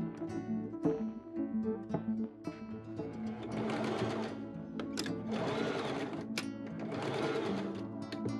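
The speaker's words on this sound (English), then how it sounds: "I machine sew all the pieces I just pinned, 1/4 inch seam allowance." A sewing machine stitches pinned cotton fabric face mask pieces with a 1/4 inch seam allowance, running in steady whirring bursts of rapid needle clatter with short pauses between runs, close and alone.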